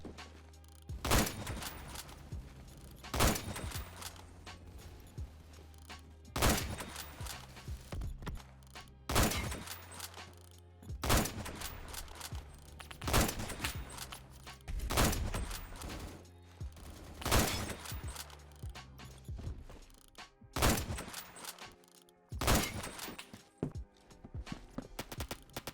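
Bursts of rapid gunfire from a Roblox shooter game repeat in loud clusters every couple of seconds, separated by short quieter gaps with faint clatter.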